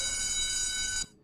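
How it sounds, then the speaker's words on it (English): A ship-sighting alarm in a U-boat video game: a steady, piercing high-pitched electronic ring that holds for about a second, then cuts off abruptly into near silence. "the alarm is because we're seeing ships"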